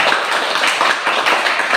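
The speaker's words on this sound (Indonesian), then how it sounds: "tepuk tangan untuk kita semua" A short burst of clapping from a group in a classroom, dense and fairly close, lasting under two seconds with no speech.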